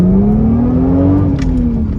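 Lexus IS300 fitted with an HPS intake hose, engine droning steadily and rising slowly in pitch as it accelerates through the gears, heard continuously from inside the car with no talking.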